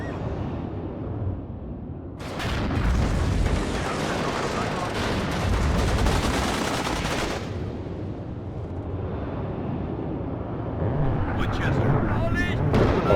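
Aircraft strafing in the WARNO wargame, a sustained dense roar of gunfire and blasts lasting several seconds with someone talking over parts of it, followed by a lower rumbling tail.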